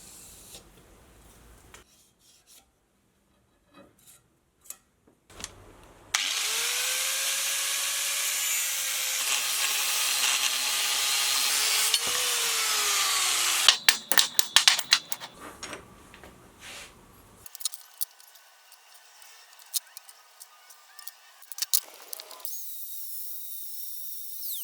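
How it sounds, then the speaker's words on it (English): Metal plate being cut into rough gear blanks in a workshop, a loud steady grinding cut rising and holding for several seconds, followed by scattered clanks, rasps and handling noises of the offcuts. "I'll get a bunch of plate cut off and cut into the rough shape"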